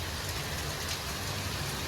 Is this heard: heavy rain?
yes